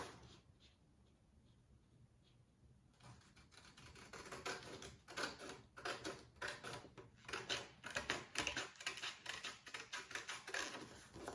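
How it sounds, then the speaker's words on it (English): Scissors cut a paper picture out by hand for a Gabby's Dollhouse Easter basket craft. After a quiet start, soft crisp snips come in quick uneven bursts, close and faint, with no talking. "cut it out by scissors,"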